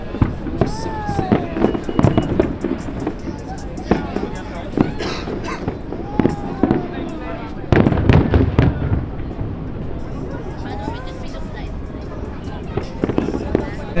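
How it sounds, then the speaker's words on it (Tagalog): Fireworks pop and crackle continuously in rapid bursts, loud and close, with people talking and a crowd murmuring underneath. "Fireworks."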